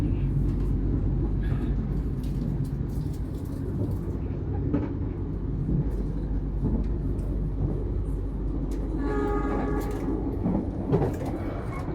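Imperial passenger train from Jogja to Jakarta rolling along, a steady loud low rumble filling the cabin throughout, with faint clacks and brief whining tones near the end; no speech.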